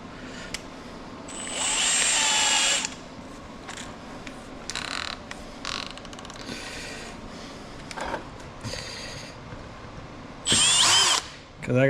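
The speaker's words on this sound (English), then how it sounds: "we're gonna take it and chuck it up in this drill" A power drill spinning a part chucked into it during a teardown, whirring in a couple of loud bursts with quieter intermittent spins and clicks between, close up and with no talk.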